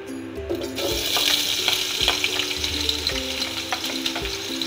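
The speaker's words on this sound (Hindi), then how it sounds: "अब इसमें कटी हुई प्याज डाल देंगे।" Chopped onions sizzle and crackle steadily in hot oil in a cooking pot for beef nihari, a dense continuous frying hiss with occasional sharper pops and soft stirring scrapes, close and fairly loud, with no speech.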